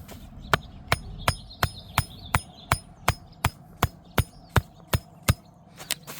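A hammer strikes a staple into an artificial turf seam in a steady series of about fifteen sharp, close taps, evenly spaced and loud, with no voices.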